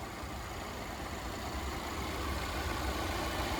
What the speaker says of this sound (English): There's the 2-liter supercharged, turbocharged engine. This one runs just magnificent.